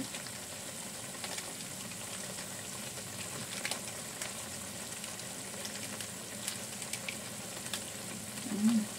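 Tempe and clams stir-fry together in a pan with oyster sauce, a continuous crackling sizzle broken by occasional clicks and scrapes of stirring, growing a little busier toward the end.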